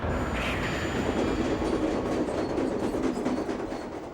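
Steady loud rumble of a train rolling along the rails toward New York, with a continuous clatter and faint metallic squeal throughout, no voices.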